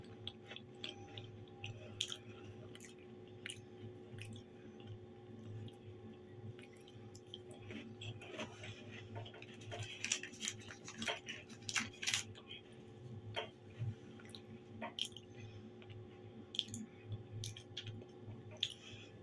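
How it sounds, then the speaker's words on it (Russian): Close, quiet crunching and chewing of a fresh cracker, irregular crisp bites and munching over a faint steady hum, no talk. "свежайший крекер. Блин, как он хрустит, а как ломается."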